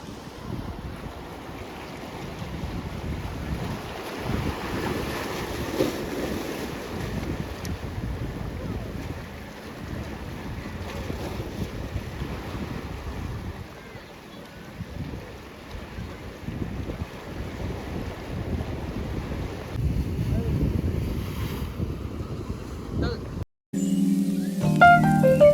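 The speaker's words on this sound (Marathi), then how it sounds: "इथून खूप जोर जोरात लाटा येत आहेत" Strong sea waves roll in at Khavne beach in the Konkan region, a broad continuous wash buried under heavy wind buffeting on the microphone, with a brief break and a different rattling sound near the end.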